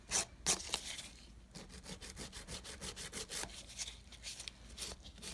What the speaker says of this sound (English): Very gently filing to remove that